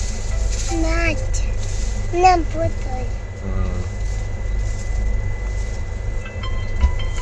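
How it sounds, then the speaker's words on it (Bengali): A passenger train pulls out of Balasore in the rain with a steady, heavy rolling rumble on the rails, while nearby voices talk over it. "ট্রেন এখন বালাসোর থেকে ছাড়ছে।"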